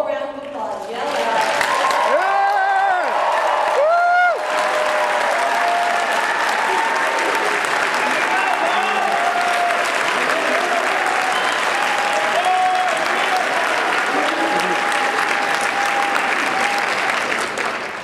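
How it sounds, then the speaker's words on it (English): A large crowd at a 2012 Friends University commencement applauds and cheers for the graduates, with loud sustained clapping, whoops and yells running throughout, and a speaker's voice briefly heard near the start. "Give them all a round of applause. Yell out."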